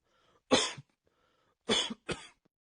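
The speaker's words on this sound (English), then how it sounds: "How about a bad cough?" Three harsh, chesty coughs, one heavy burst followed by a quick double cough after a pause, loud and close with no talking.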